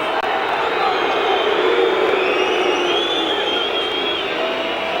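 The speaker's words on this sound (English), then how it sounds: "What a noisy crowd out here." Football crowd at a 1997 Division 2 match between Burnley and Bury, a loud, continuous roar of voices rising and swelling after a handball, with a commentator talking over it.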